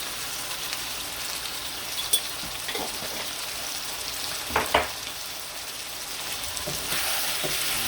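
Ground spices for a chicken masala sizzle and fry in a hot pan, a steady crackling hiss broken by a few scraping stirs of a spoon.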